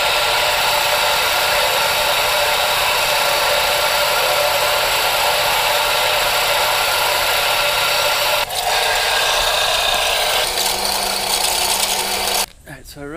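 A power sander works a wooden jointed swimbait lure, grinding loudly and continuously. The whir changes pitch partway through and cuts off near the end.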